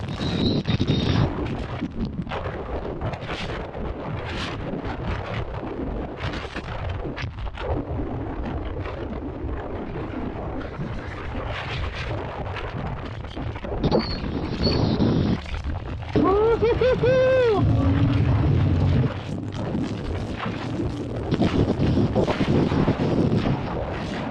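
During a ride, strong wind buffets the microphone in loud, gusting rumbles that keep rising and falling, with some brief tonal chirps mixed in partway through.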